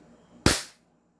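A single sharp Glock 17 Gen 5 pistol shot at a shooting range, loud and close, with a short decaying tail after the crack and no other sound.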